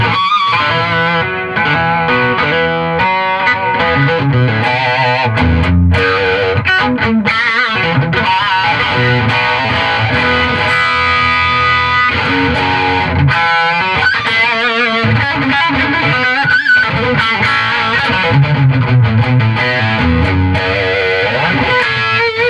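Electric guitar played with heavy distortion through an Egnater Tweaker amp with pedals, a loud, dense, continuous stream of gritty chords and notes running without pause for the full stretch, no voices.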